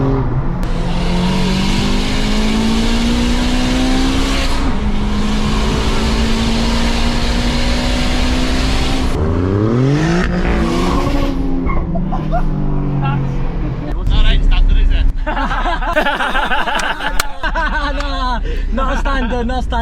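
A 500bhp manual, turbocharged Honda Civic FN2 Type R with boost-by-gear revs hard while racing on the road, its engine note rising and falling through gear changes, with tire noise and a voice talking over it throughout.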